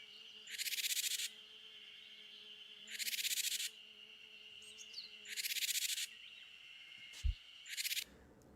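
Harsh buzzing jar calls of a Japanese tit played from a loudspeaker outdoors, four raspy bursts about a second long each, spaced evenly, followed by a brief thump and one shorter burst.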